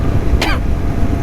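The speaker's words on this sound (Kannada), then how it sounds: "ಸಾರಿ, ಕೆಮ್ಮು ಬರ್ತಾಯಿದೆ ತುಂಬ." A single sharp cough bursts out close to the mic, short and loud, during a group motorcycle ride stop with a Continental GT 650 rider.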